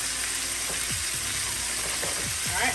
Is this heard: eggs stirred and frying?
yes